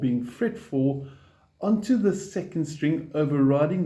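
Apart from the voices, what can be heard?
No distinct noise like a dog, phone or traffic.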